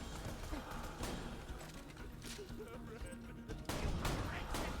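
Striker shotgun in Borderlands 2 emptying a full magazine, a string of rapid booming blasts over busy game noise, fairly muted overall, with a louder burst near the end.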